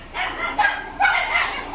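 Dog barking outdoors, a few sharp yips and barks in quick bursts close by, fairly loud against light background noise.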